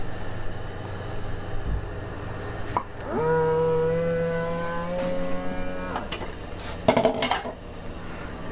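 A vacuum sealer finishes its cycle on a bag of lettuce, giving a steady whirring hum that holds for about three seconds before cutting off, then a short clicking clatter as the seal engages.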